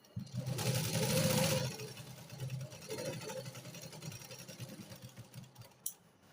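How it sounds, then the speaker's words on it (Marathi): A sewing machine stitches a garment lining seam in short runs, a steady mechanical whir that swells loudest early, then continues more quietly, ending with a brief click. "मागची शिलाई अस्तरची व्यवस्थित पकडायची आणि शिलाई द्यायची"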